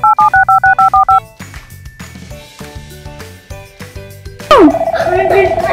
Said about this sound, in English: Now, I'm gonna call my friend, Riki.